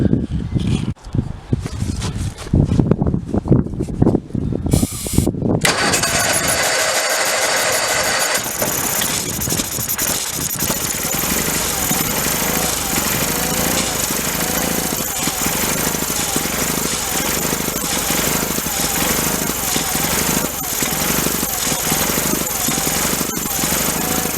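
An Onan B48M twin-cylinder engine on a Case Ingersoll garden tractor cranks without starting, a loud, continuous rhythmic churning that runs on steadily after some initial knocks.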